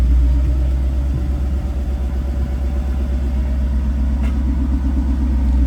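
A car on sticky tires crawls forward in first gear after burnout prep, its engine a steady, loud low rumble near idle throughout with no talk.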